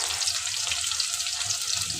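Steady, close sizzling of onion and green chillies frying in hot oil, a continuous crackling hiss with no voices.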